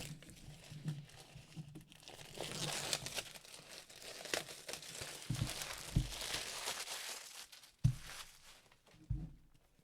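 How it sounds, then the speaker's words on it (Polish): Plastic shrink wrap film is peeled and torn off a board game box, crinkling and crackling close by in uneven bursts, with a few sharper rips and soft handling thumps. "Zdejmijmy folię."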